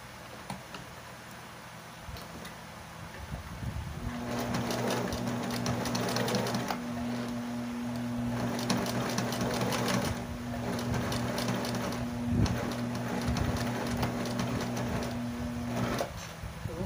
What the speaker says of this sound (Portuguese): Aí eu vou bater a costura aqui, deixando mais ou menos 1 centímetro sem costurar aqui